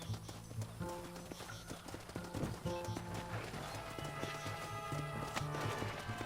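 A horse gallops in the Red Dead Redemption video game, a quick clopping of hooves over a busy bed of game sound, with a neigh and a burst of crashing noise mixed in.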